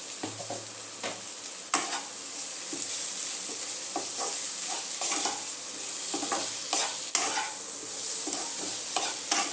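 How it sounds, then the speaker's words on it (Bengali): Okra and mixed vegetables fry with spices in a pan, a constant close sizzle broken by repeated scraping stirs and a few sharp clacks of the spoon against the pan. "একটু ভেন্ডির সাথে সবজিগুলো মশলা টসলা সব একটুখানি ভাজা ভাজা করে নেবো"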